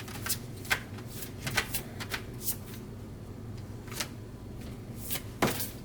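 Tarot cards are shuffled by hand for a card pull, giving soft, quiet riffling and flicking pulses at an uneven pace with no one speaking.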